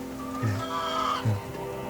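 Chickens on a farm give two short, low clucks close by, spaced under a second apart over a steady background murmur.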